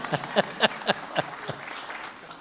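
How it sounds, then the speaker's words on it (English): Brief applause at a school board of education meeting: a handful of distinct, fairly sparse claps in a loose rhythm that quickly taper into a soft murmur of room noise. "did I hear applause for that group?"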